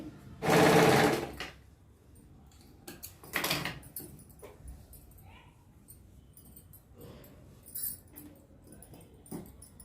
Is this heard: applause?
no